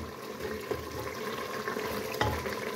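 Chicken keema frying in oil with salt and red chilli, a low, muted sizzle with a few faint stirring clicks, fairly quiet and with no speech.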